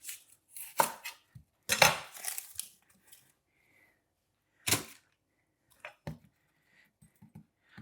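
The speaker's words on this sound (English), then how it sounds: "I've got here a large white onion. I'm just gonna cut it in half," A knife cuts through a large white onion on a cutting board, giving several sharp, close chops and thuds with quiet pauses between strikes.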